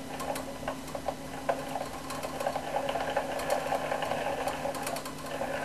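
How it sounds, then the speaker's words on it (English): Yarn being wound gently into a ball by hand or winder, a soft steady mechanical whir with faint irregular ticking and clicking, quiet and close, no talk. "So then we wind it up again, more gently this time."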